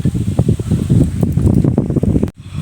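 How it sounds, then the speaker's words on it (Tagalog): Wind gusts outdoors while rice is cooking, with a fluttering, uneven rush that buffets close to the microphone and drops away abruptly near the end. "Kaso mahangin."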